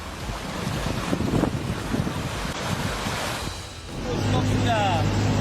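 Flash flood waves surge through the usually dry Arroyo Camiso drainage channel in Santa Fe, a loud continuous rushing roar of churning water with wind buffeting the microphone, swelling louder toward the end.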